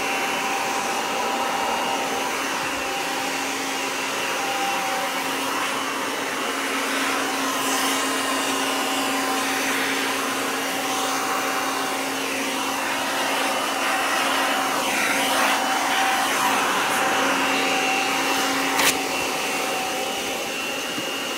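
A Kirby G5 upright vacuum cleaner runs steadily throughout, a loud continuous motor whine with a constant airflow hiss and no talking.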